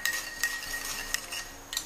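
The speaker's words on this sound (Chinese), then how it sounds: "然后给它搅匀化开" A spoon stirring a spoonful of potato starch into a small bowl of clear water, giving a few light, spaced clinks against the bowl over a soft, steady swirl.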